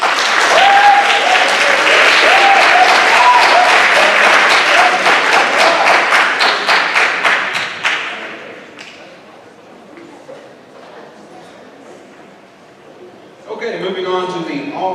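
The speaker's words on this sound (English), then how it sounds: "All right, a round of applause for this group." Loud, dense audience applause at a high school academic awards ceremony, sustained for about eight seconds before thinning out and fading, then a brief burst of sound near the end.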